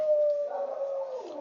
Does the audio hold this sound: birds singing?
no